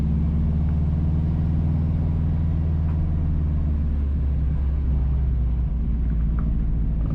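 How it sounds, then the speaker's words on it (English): A car drives along the rural Union Hill to Lambkin Hill Road in St Mary, Jamaica, heard from inside as a steady, loud low rumble of engine and road noise with no talking. "We are driving on the Union Hill to Lambkin Hill Road."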